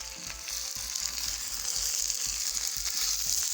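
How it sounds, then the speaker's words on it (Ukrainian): Potatoes fry in a pan in a home kitchen, giving a steady, close sizzling hiss with faint crackles and occasional soft stirring scrapes throughout. "до рибки у нас смажена картопля"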